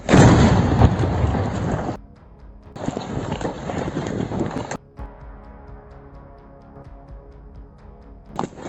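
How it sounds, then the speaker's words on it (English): A loud blast from an FPV drone detonating on a moving Ukrainian robotic vehicle, a dense roar that cuts off, bursts again, then fades into a lower rumbling tail, with no voices. "a strong explosion occurred as the device detonated"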